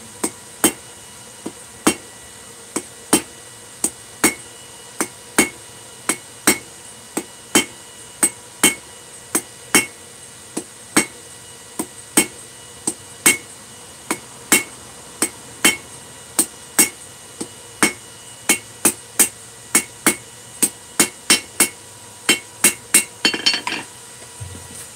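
Steady series of sharp metallic hammer blows on hot metal at a forge, evenly spaced and loud, with a faster cluster of strikes near the end and no talk.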